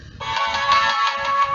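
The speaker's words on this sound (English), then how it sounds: "Sorry, that was my phone." A mobile phone ringtone plays loudly and close by as a bright, sustained electronic melody lasting just over a second, with no voices.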